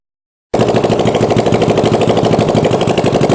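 A CB45 engine for a go-kart, freshly running after a carburetor rebuild, bursts to life after a moment of silence and keeps up a loud, rapid, close staccato chugging with an even rhythm.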